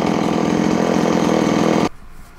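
A cheap, previously non-working chainsaw, started with a pull cord, roars loudly at high revs close by, then cuts off abruptly, leaving quiet background noise.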